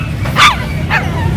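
Two sharp barks from a dog at a busy pet market with small breeds such as Shih Tzu, pug, chihuahua and French Bulldog, close and loud, about half a second apart over a low background hum.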